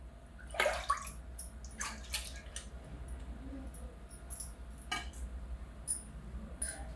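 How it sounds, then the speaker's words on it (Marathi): Water being poured into a pressure cooker holding washed dal, heard as faint splashing and sloshing with a few watery bursts and light clinks against the metal, fairly quiet and without talking. "पहिली मी ते पाणी असंच ओतते कुकरमध्ये"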